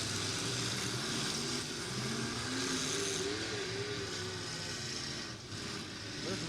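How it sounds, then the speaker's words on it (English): Several race car engines roar at a Crash Course Live Halloween Havoc 2016 event in Ogden, Utah, heard from a distance as a faint, continuous drone with rising and falling engine tones and crowd noise. "Listen to those motors, man."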